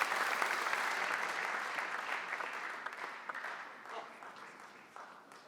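Crowd applause at a men's World Cup table tennis semifinal in Germany, a full patter of many hands that gradually thins and fades as the clapping dies down.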